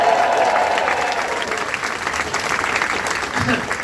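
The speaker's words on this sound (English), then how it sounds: "Give her a round of applause." A comedy club crowd applauds the comedian's mother in the audience, a full, close burst of clapping that stays loud for a few seconds with scattered voices and cheers underneath.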